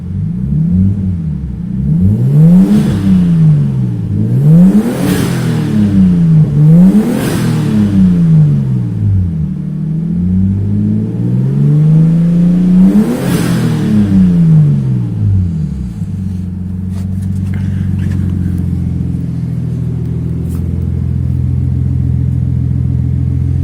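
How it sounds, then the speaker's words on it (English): A 1990 Nissan Skyline GTS-T R32 with a full exhaust revs hard from inside the cabin, four loud climbing and falling revs in the first fifteen seconds, then settling into a rumbling idle. "This is my 1990 Nissan Skyline GTS-T R32, and I'm going to show you how it sounds from the inside"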